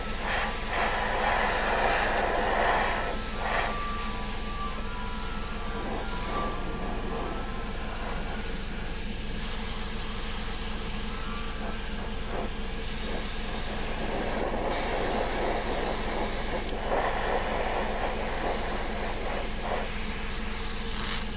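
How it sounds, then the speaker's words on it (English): An airbrush hisses steadily as it sprays paint onto a Pegasus Hobbies War of the Worlds model kit, a continuous close airy spray with slight variations in pressure and no talking. "So I'm going to use pull back on the airbrush very slightly."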